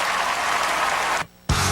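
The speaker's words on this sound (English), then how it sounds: "Give yourselves a big round of applause and thank y'all for coming out." Audience applause closing a stand-up comedy show, a dense steady wash of clapping that cuts out abruptly for a moment near the end, then resumes.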